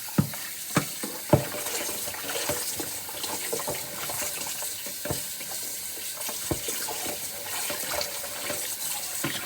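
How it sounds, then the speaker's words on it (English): Cold tap water runs steadily into a bowl of raw chicken wings in a kitchen sink, a continuous close splashing hiss with occasional sharper knocks and clatters, no talking. "Get some more cold water on there."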